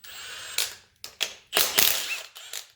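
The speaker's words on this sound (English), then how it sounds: "Let's get our wrench on there." A wrench ratchets on a 17 mm bolt in the suspension of a Mercedes W116 300SD, producing short bursts of close, sharp clicking separated by brief pauses.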